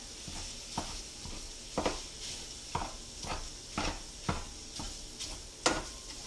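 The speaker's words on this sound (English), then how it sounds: "let me get this sausage ground up here, again with the mix and chop" Ground sausage browns with onions in a pan while a mix-and-chop tool breaks it up, making a regular series of soft scraping, tapping strokes over a faint sizzle.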